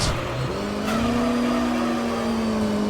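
A race car engine in the video game Gran Turismo 3 revs with a steady, sustained whine that rises gradually, heard loud and close with no talking.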